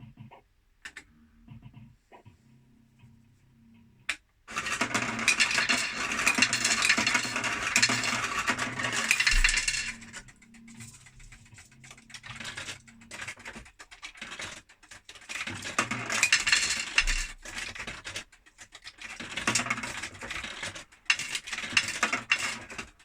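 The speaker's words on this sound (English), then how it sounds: "as quick as I'm putting money in the top, there's money falling out the bottom" Coins drop out of a Caesars Palace fruit machine in bursts of rapid metallic clattering and rattling, loud and close, separated by quieter gaps of mechanical clicking.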